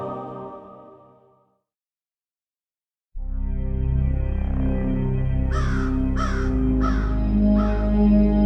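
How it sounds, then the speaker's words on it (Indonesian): A black crow cawing: a drawn-out harsh call fades out, then after a pause loud, close caws ring out, with four sharp rasping calls in a row near the end. "gagak tampak sederhana, hanya burung hitam dengan suara keras"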